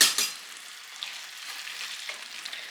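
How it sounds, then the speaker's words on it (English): Ghee sizzles softly in a pan of carrot halwa as it cooks, a faint steady crackling fry with a few stirring scrapes and no talking. "Now I am adding in about another almost 2 teaspoons of ghee to this"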